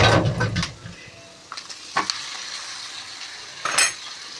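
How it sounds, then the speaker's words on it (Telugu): Pieces of korameenu and mattagadasalu fish drop into a sizzling tomato curry in a pan, with a burst of frying and stirring at first, then a few sharp clinks and scrapes of a utensil against the pan. "ఇప్పుడు చేప ముక్కలు వేస్తున్నానండి."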